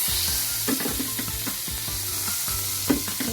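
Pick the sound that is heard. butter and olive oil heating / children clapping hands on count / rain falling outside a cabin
butter and olive oil heating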